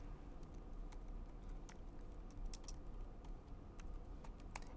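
Steady typing on a computer keyboard while code is written, soft rapid key clicks scattered over a low background hum, close but quiet.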